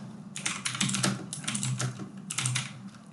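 Code is typed steadily on a computer keyboard, with close, crisp key clicks in quick irregular bursts and brief pauses, no voices.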